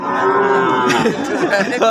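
A cow gives a loud, close moo, a long low drawn-out call that wavers toward the end, with faint background chatter at a cattle market.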